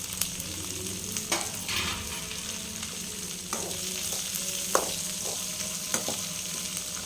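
Ginger, chopped onion and green chilli fry in a pan with a continuous close sizzle, punctuated by several sharp spatula scrapes and stirring knocks, with no voices.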